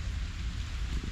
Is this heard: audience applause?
no